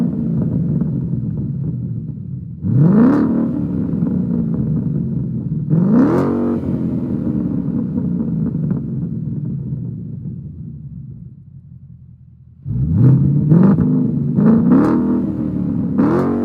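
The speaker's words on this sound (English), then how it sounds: "some exterior clips just so you can get a feel for what the exhaust sounded like from the outside" A 2014 Mustang GT's exhaust is heard from outside the car as three rising revs, each a deep rumble climbing in pitch before settling to idle, with the last a quick burst of stabs on the throttle.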